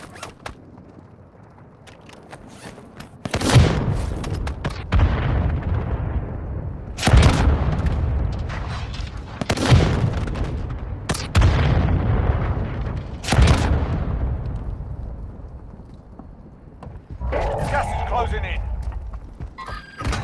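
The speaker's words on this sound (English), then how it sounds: "Friendly mortar strike inbound." Friendly mortar strike explosions in Warzone Mobile, a series of loud, heavy booms landing one after another every few seconds, each with a long rumbling decay.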